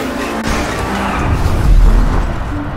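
A car driving in GTA 5, heard as a steady loud engine roar with a low rumble that swells midway before easing.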